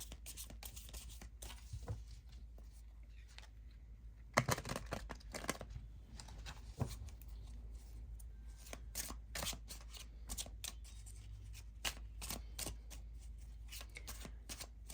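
Halloween Tarot cards being shuffled by hand at close range, quick papery riffles and soft slaps in irregular bursts, quiet throughout.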